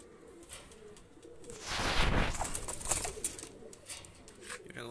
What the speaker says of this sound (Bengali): চরম কোয়ালিটি দুইটা কবুতর, নিউ রানিং কবুতর